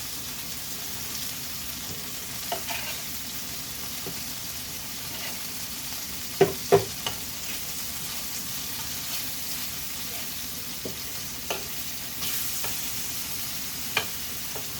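Small slices of beef for Mongolian beef fry in a hot pan with a steady, close sizzle, broken by a few sharp clinks and scrapes as the pieces are stirred and turned.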